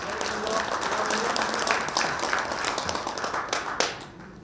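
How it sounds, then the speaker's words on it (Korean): Audience applause welcoming the principal of Masan Yongma High School at a centennial book-launch ceremony, steady dense clapping from a crowd lasting several seconds before tapering off at the end. "힘찬 박수 환영해 주십시오."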